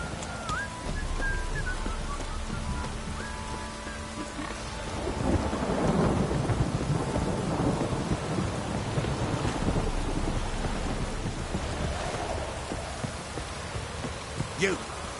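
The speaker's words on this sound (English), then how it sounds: "This downpour's a bastard in it." Heavy rain pours steadily, with a deep rumble of thunder swelling through the middle; a voice speaks briefly at the start.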